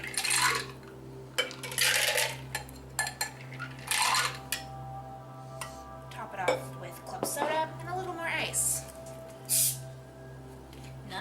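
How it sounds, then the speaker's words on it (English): Cocktail liquid and ice sloshed from a glass into a shaker and poured back, giving clinking ice, splashing and metal-on-glass knocks in quick bursts, heard close with no speech. "I'm gonna actually pour what's in this glass into the shaker and then pour it right back in"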